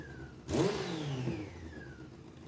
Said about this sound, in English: now that I've established that the engine actually runs